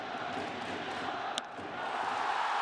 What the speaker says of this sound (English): Here comes the Ichiro chant. Give it a second, and you'll hear the whole crowd.